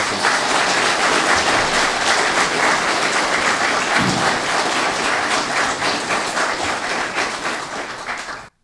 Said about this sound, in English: I would like you all to give a big round of applause to people today